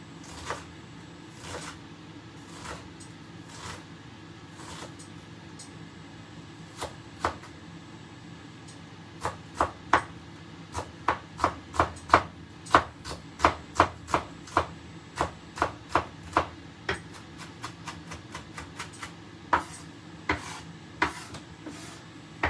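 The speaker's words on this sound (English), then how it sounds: "go straight across so you get little onion pieces like this" A kitchen knife chops an onion into small pieces on a board, first in sparse, irregular cuts, then in a fast run of sharp, close knocks, with no talk.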